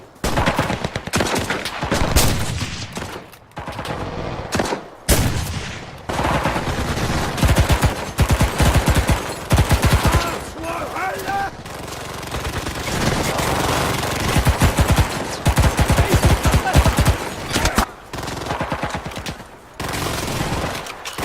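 Gunfire from a zombie video game, long bursts of rapid automatic shots and scattered single blasts, loud and dense with brief pauses between volleys.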